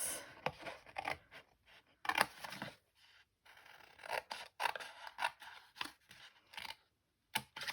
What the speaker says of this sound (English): And then I'm going to cut up the bottom just here, like this.